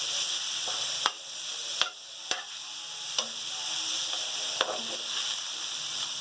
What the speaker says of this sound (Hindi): इसमें हम शामिल करेंगे हमारा कीमा, ये बिल्कुल बारीक कीमा है। तो भूनेंगे